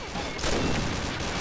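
A quick burst of gunfire from a wall bang shot in the online shooter Combat Arms, sharp cracks rising over a busy game soundscape with a louder blast midway, short and punchy.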